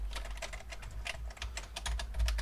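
Keys pressed repeatedly on a Philips VG8020/40 computer keyboard under repair, a quick irregular run of close, light clicks and taps over a steady low hum.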